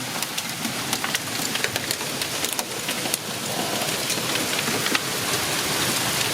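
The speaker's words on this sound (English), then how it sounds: "we're having hail. Quite a lot of hail." Hail falls during a severe thunderstorm, a dense, loud patter of ice striking surfaces with sharp individual hits over a steady roar that grows slightly heavier, with no voices.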